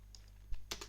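A few quick keystrokes on a computer keyboard while a Linux command is entered, sharp close clicks with a louder cluster near the end in a quiet room.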